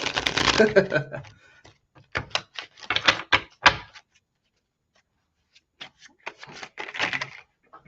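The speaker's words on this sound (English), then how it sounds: "If the cards want me to shuffle." Tarot cards riffled and shuffled close by in several quick bursts, with soft slaps and pauses between them, fairly quiet.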